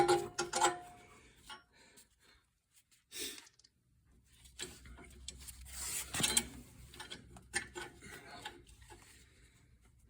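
The pivot axle bolt of a John Deere L130 mower is threaded and tightened by hand, with faint irregular metallic clicks, scrapes and rubbing, close and quiet, and short pauses between the bursts of movement.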